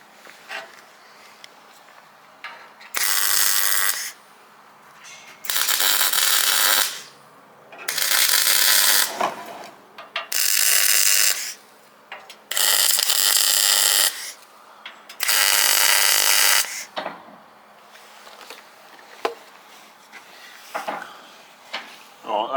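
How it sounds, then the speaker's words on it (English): Repeated bursts of arc welding as a new section is tacked onto a crash-damaged tri-axle trailer drawbar, six loud crackling runs of a few seconds each separated by quiet pauses with occasional faint clanks. "let's get this sucker welded in there"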